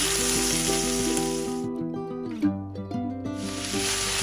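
Rice toasting in a pan for Nigerian goat meat fried rice gives a bright, steady sizzling hiss. It is clear at the start and end and drops back under loud tonal music through the middle.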